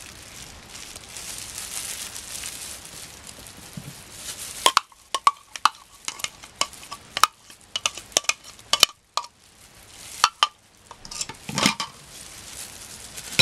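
Ube being mixed in a pan: soft scraping and stirring at first, then a scattered run of sharp spoon-on-pan clinks and knocks, close and fairly quiet.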